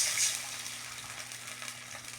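Water poured into a cooking pan while preparing a simple Filipino home-cooked dish, a steady soft hiss and splash that runs through the short clip at low volume.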